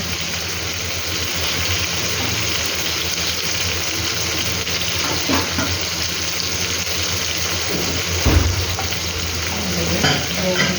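Mung beans for ginisang monggo with cabbage sizzling in a pan: a loud, continuous frying hiss with stirring scrapes and a thump near the end, heard close up.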